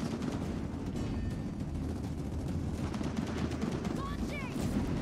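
Rapid gunfire in Gears of War 4 as players shoot at bombs, a dense continuous rattle of shots with scattered effects throughout.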